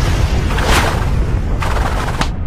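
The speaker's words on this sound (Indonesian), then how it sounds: "terjadi ledakan dahsyat yang menghancurkan naga" A powerful explosion destroying a dragon: a loud, dense roar of booming blasts with crackling bursts, one surge building early and another breaking out near the end, continuous with no voices.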